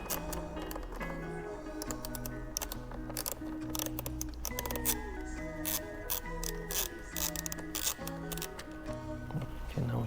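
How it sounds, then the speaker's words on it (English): Rapid ratchet clicks from a T25 Torx ratchet backing out a fairing screw on an Aprilia RSV4 motorcycle, with steady background music playing throughout. "we have to unscrew it from the inside with a 25 Torx"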